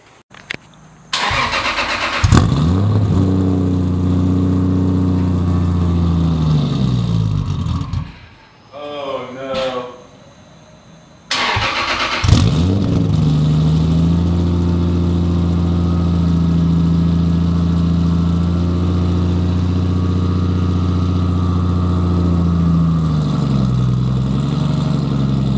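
A 700-horsepower 1998 Toyota Supra engine idles loudly and steadily as it warms up. Its pitch rises and falls in swells as the engine is revved, broken by a brief lull of quieter sounds in the middle.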